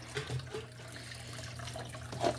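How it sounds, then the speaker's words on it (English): Water runs through an aquarium siphon tube while a fish tank is cleaned, a soft, continuous gurgling trickle with a few small splashes and burbles, fairly quiet and close, with no talking. "looks like I got water in the tube, so it'll be easier to start"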